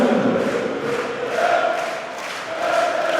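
Darts crowd at the PDC German Darts Championship 2014 roaring and cheering after a big checkout, a dense sustained wall of voices rising and swelling in waves, loud and continuous throughout.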